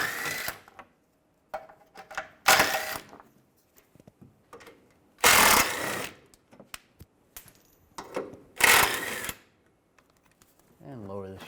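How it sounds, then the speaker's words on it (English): Ratchet and socket work loosening four 15mm bolts from the engine splash shield under a 2011-2018 Ram 1500 pickup, heard as bursts of clicking and mechanical rattling with pauses, mixed with someone talking. "use a 15mm socket, take these 4 bolts out"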